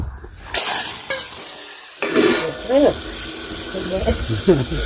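Spiced oil tempering poured into a pot over a wood-fired stove for a Gujarati vegetable dish crackles and hisses in bursts, close and fairly loud, while people talk over it.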